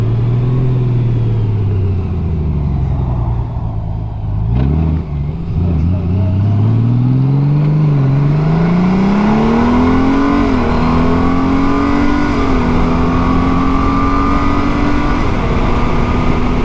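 A 2021 Honda Goldwing DCT motorcycle accelerates hard, its engine rising in pitch and dropping briefly as the automatic transmission shifts, then pulling steadily at high revs with loud wind rush close by.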